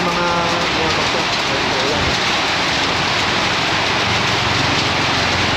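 Heavy rain mixed with hail pours down during a town fiesta, a dense, loud and unbroken hiss of drops pounding surfaces close by, with a low engine hum beneath.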